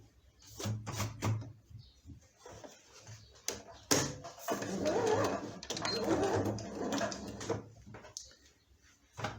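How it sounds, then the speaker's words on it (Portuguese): A sewing machine stitches a fabric elephant toy for a baby, working along the trunk in short bursts with pauses and clicks, then a longer run of stitching, with soft handling noises around it. "vou começar a costurar nessa marquinha"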